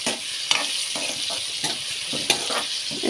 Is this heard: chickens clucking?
no